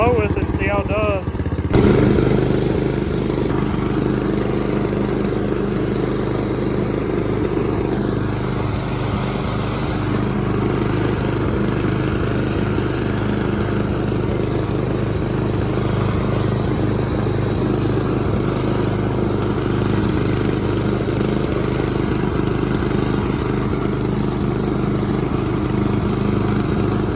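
A Scag lawn mower engine runs steadily and loudly up close, a continuous throbbing drone after it catches, with no break throughout.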